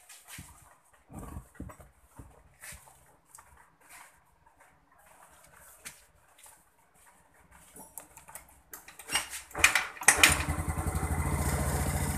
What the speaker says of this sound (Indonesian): setelah itu kita hidupkan kembali untuk motornya ya